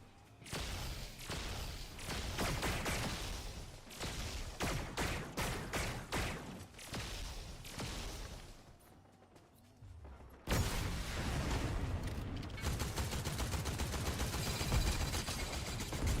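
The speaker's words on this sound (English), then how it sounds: "somebody was shooting" Gunfire from the video game Fortnite, with dense rapid shots and rattling bursts that continue almost without pause, dip to a quieter stretch, then return louder and steadier.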